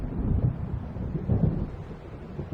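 Low rolling thunder from an approaching storm in the Alan Wake video game rumbles continuously with wind and rain-like hiss, swelling in deep booming surges, with no voices.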